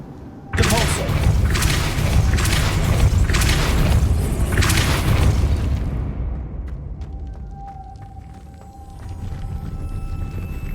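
A loud Depulso spell blast in Hogwarts Legacy hits suddenly, rumbling with heavy booming thuds for several seconds before fading into a quieter game ambience with faint tones.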